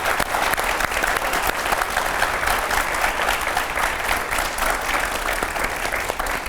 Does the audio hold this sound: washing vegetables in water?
no